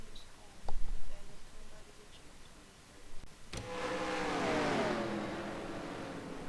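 A race car engine at the 24 Hours of Sebring sweeps past, faint at first and then swelling into a loud rising whine that sustains to the end, with brief clicks and thumps early on.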